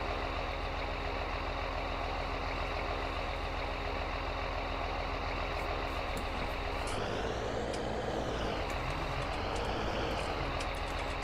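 A tractor engine in Farming Simulator 19 runs steadily with a droning hum and rising whine partway through, continuous and fairly loud, with no talk.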